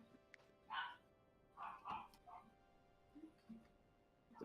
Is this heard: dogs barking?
yes